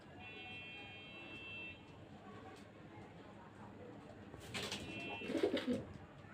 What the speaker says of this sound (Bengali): এটা এক সেট কবুতর।